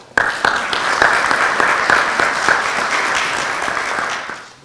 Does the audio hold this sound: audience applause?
yes